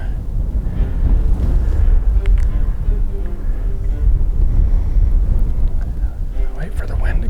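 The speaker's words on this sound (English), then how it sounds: "Wait for the wind to go down." Wind gusting outdoors during a deer bow hunt, a loud, steady low rumble buffeting the microphone throughout, with some faint rustling on top.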